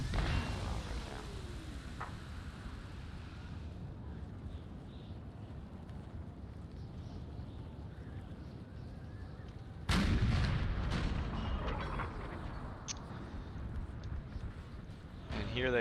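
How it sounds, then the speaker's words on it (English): Artillery booms out across a Napoleonic battlefield in Napoleon: Total War's American Civil War mod, with a big close blast near the ten-second mark amid scattered distant gunfire and ambient battle rumble. "Watch some of this cannon fire going on right now."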